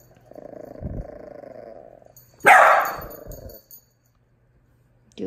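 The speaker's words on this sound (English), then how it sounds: "don't you bark" A small indoor dog, a Miniature Pinscher or a Dachshund, growls low for a couple of seconds, then lets out a sharp close bark that trails into a brief rumble, followed by near silence.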